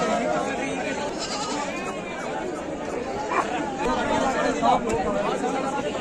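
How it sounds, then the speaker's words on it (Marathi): A busy weekly goat market with a crowd chattering steadily and goats bleating now and then among the voices. "आठवडी बाजारामध्ये शेळीच्या बाजारामध्ये आपण आज आलेलो आहोत"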